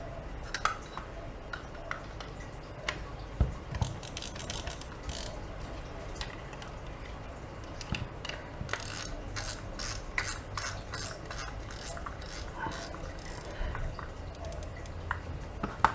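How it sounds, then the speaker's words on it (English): A fishing reel spool is fitted onto the reel during servicing, bringing irregular small mechanical clicks, ratcheting and light metallic taps close up. "We can put on our reel spool."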